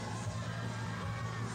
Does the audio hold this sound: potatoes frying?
no